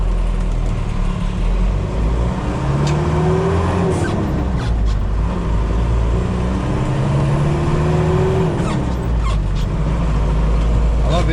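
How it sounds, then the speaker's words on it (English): A car speeds past while the driver's own car runs with a steady low engine drone and rising, falling gear-change tones, loud and continuous throughout. "One more car that's moving along at 900 mile an hour"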